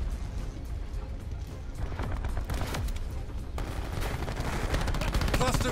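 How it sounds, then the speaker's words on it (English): A cluster grenade goes off in a chaotic video-game firefight, a dense, continuous wash of blasts and gunfire-like cracks that swells toward the end, loud and unbroken throughout. "Cluster grenade!"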